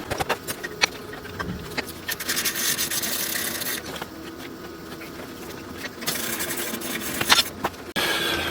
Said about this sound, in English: slide our axle adjusters all the way forward